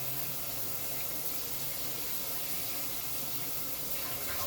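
Steady, full-band rush of running water for bathing a cat, like a tap filling a basin, continuous and fairly close with no talk.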